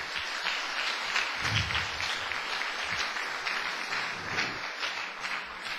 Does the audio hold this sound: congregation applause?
yes